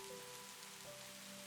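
Steady rainfall pattering on surfaces, a dense, even hiss with no distinct drops standing out, soft and continuous with a faint low tone underneath and no voices.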